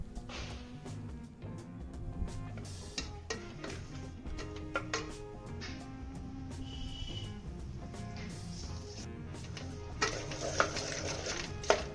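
Snails being mixed by hand with rock salt and turmeric in a vessel give close, irregular wet shuffling, clicking and scraping, with occasional louder clatters toward the end.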